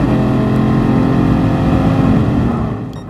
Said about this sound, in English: I love the engine sound of this Ferrari.